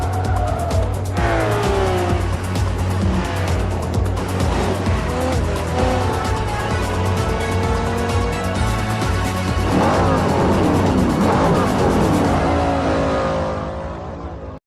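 Race cars in Forza Motorsport 3 roar and rev loudly as tires squeal and skid through corners, with engines sweeping past in waves before the sound fades out at the end.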